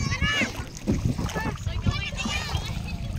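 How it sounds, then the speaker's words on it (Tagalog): A small boat ride toward an island in Mindoro, with water splashing and sloshing against the hull in irregular bursts while children and adults talk and chatter over it close by. "Sasakay kami ng bangka."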